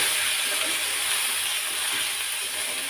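Bitter gourd frying in plenty of oil in a pan, stirred now and then: a steady, loud broadband sizzle and hiss fills the whole stretch without a break, with faint scraping under it and no talking.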